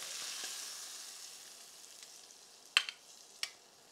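Chicken pieces fry in a pan with a soft, faint steady sizzle, broken near the end by a couple of sharp crackling pops.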